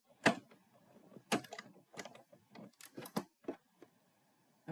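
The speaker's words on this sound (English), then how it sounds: "I'm just going to crank that through. It's going to just cut normally." A die-cutting machine being hand-cranked as a die-cut plate passes through, giving a series of close, irregular clicks and clunks spread over a few seconds, with no talking.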